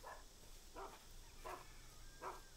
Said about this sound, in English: I do hear a dog though.